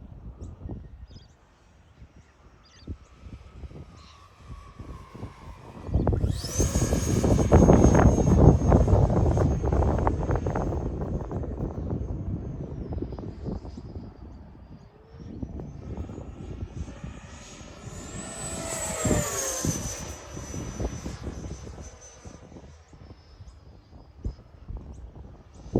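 An E-flite Viper 90mm electric ducted-fan model jet makes low passes on a windy day, its rushing, whining roar swelling loud as it sweeps past, fading, then building into a second, shriller pass with steady wind noise between.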